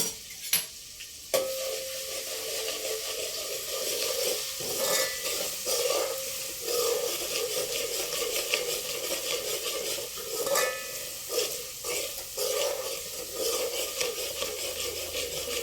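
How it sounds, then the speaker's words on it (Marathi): Masala paste sizzles steadily in moderately hot oil for veg pulao, with a spoon stirring and scraping against the pan, including a sharp clatter near the start, close and continuous with no talk. "थोडं जेव्हा तेल थोडंसंच गरम होतं तेव्हा आपण ही पेस्ट टाकली की ती पूर्ण म्हणजे अशी जळत नाही, व्यवस्थित होते."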